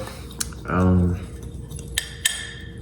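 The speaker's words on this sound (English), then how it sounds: "Then you're gonna grab a fork and then mix it." A fork scrapes and clinks against a bowl while stirring cinnamon, a few short sharp metallic taps spread over a couple of seconds, with a brief voice sound in between.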